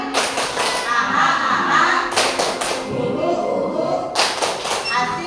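A group at a school training session performs the 'tepuk semangat' spirit clapping chant, with bursts of clapping repeating in a rhythmic pattern, loud and close, and voices chanting along.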